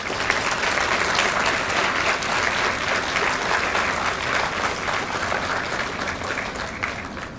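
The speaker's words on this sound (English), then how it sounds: "let us all give a big round of applause to madam" A hall audience at a book release at Pondicherry University applauds in a sustained, even burst of dense clapping that fills the room throughout.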